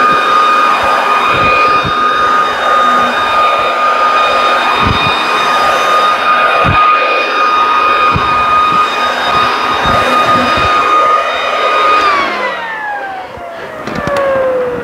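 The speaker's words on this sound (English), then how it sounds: "So it's a great blower" Worx Trivac 3-in-1 leaf blower with the lever set to maximum blowing, not attached to its bag, roars as a loud, steady high-pitched whine that holds level for about twelve seconds, then winds down as it is switched off.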